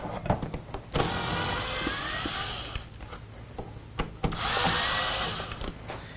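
Power drill backing Phillips head screws out of a plastic seat panel in a 1997-2003 Ford F150 cab, two whirring bursts of about two seconds each, close and loud, with clicks and handling knocks between them.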